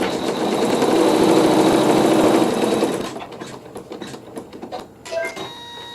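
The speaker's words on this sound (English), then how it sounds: "we're sewing the seam" A sewing machine stitches a fabric seam with a fast, even mechanical whir for about three seconds, then stops, leaving light handling clicks and rustles.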